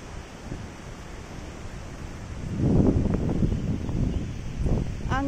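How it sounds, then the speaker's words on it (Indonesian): Wind gusting through a quiet national forest, a steady rushing roar that swells louder midway with rustling bursts, close to the microphone, with no one talking. "Angin, guys, angin."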